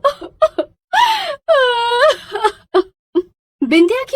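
A cartoon woman wails and sobs in loud, drawn-out bursts separated by short gasping pauses, close and emotional.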